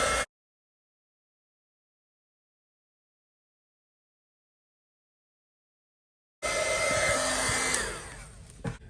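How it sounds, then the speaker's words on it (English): A handheld heat embossing tool blows steadily over a stamped sentiment, a brief burst at the start, then after a silent gap a loud sustained whoosh that fades a little near the end. "we're gonna get our heat tool and we're gonna heat emboss this sentiment"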